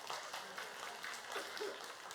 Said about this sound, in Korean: 박수 한번 쳐주고 싶어. 우리 박수 한번.